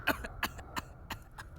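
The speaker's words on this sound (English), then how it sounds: "I cough, long and drawn and wet" Wet, phlegmy coughing from the video game Tortured Artist, a series of about five separate hacking bursts spread at fairly even gaps, each one close and moderately loud over a low hum.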